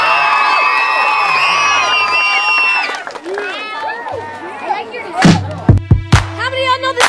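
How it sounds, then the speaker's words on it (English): A crowd of children at a summer camp event shouts and cheers loudly, then breaks into bursts of clapping and whoops close by. "So what I want y'all to do is give Jasmine a big round of applause."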